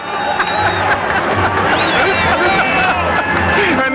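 Kansas City baseball crowd at a World Series game roaring and cheering in a large stadium, a dense continuous wall of voices and whistles that stays loud throughout.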